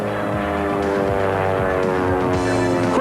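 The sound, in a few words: Double Take airplane flying at Oshkosh airshow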